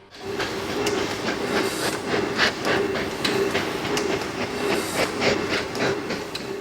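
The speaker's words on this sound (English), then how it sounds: "The night and day sound of the pump was something like this." A steady, rhythmic mechanical chugging with hissing steam and regular clanking beats, loud and continuous, from a large 1905 Snow steam pump engine with coal-fired boilers running nearby.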